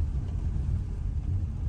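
A car drives over a rough road, giving a continuous close, heavy rumble that shifts unevenly with the bumps and carries no talk.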